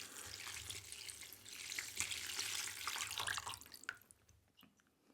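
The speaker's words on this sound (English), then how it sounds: "let's pour it in the broth now" Broth pours and splashes into a pot of spicy Korean army base stew (budae jjigae): a steady close hiss of liquid that thins to scattered drips and spatters at the end.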